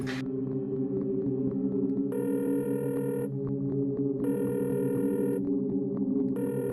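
Repeated electronic tones sound in bursts over a steady low hum, like a phone dialing and ringing heard through a speakerphone.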